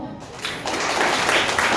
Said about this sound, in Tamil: இன்னொரு பரவாயில்ல கைத்தட்டுங்க பார்ப்போம்